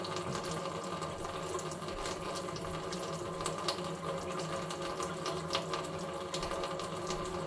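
Kitchen tap running steadily into a sink while waiting for the hot water to come through, a constant broadband rush of water with faint clinks, close and continuous with no talking.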